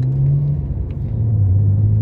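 Nissan straight-six engine breathing through an HKS Hypermax exhaust, a deep, steady idle rumble with a low droning tone close by, no talking.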